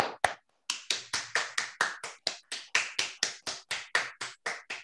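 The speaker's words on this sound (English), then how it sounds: "I think we should applaud" Sharp separate hand claps follow a conference talk, about eighteen in a steady rhythm after one early clap and a brief pause. They sound close and bright, as if a small number of people were clapping together.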